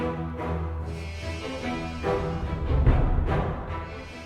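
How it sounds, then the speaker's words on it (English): Orchestral strings with cellos moving in triplets beneath second violins playing running eighth notes, a dense, continuous ensemble texture that swells slightly toward the end, no voices. "we have the cellos going in triplets and the call and response also in triplets in the beginning,"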